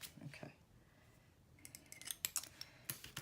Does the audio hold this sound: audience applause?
no